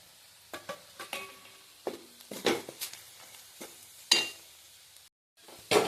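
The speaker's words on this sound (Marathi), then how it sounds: "मसाला तेलामध्ये भाजून घ्यायचा आहे अर्धा मिनिट नंतर खोबरं आणि आले लसूण पेस्टचं वाटण घालायचं आहे" Masala paste with coconut and ginger-garlic frying in hot oil in a pan, with soft sizzling and a series of sharp clinks and scrapes from a spoon stirring against the metal, close and fairly quiet with a brief pause near the end.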